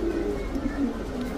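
Repeated low cooing comes from a black male racer pigeon, close and fairly steady, a few rolling phrases running one after another without speech.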